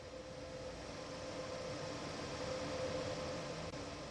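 BR 185.2 electric locomotive in a train simulator game on PS4, a steady electric hum and rolling drone with a faint tonal whine, continuous and even throughout.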